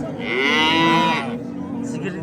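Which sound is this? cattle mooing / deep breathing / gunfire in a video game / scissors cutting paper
cattle mooing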